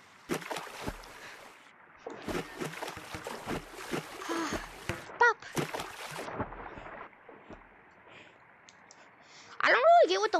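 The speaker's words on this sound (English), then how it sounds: "When I put my water balloon in the water, it didn't explode, it sunk! Until it exploded." Bursts of splashing and gurgling water from a water balloon sinking and then bursting in a video game, set between stretches of quiet, with a louder burst near the end.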